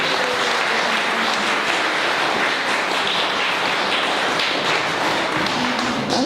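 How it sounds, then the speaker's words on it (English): A room full of people at a pastel art exhibition awards gathering claps for the winners, a dense, steady round of applause holding at full loudness from start to finish. "One round of applause for all of the winners."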